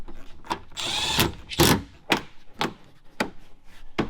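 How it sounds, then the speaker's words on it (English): Power tool driving bolts to fasten a fender flare on a Chevy High Country pickup truck, heard as a series of short, sharp bursts with one longer whirring run, close and loud, with no talking. "Now we'll bolt it."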